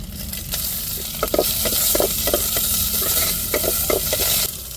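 Dried red chillies and curry leaves crackle and sizzle loudly in hot oil in a pan while being stirred, with sharp pops over a steady frying hiss and no talk.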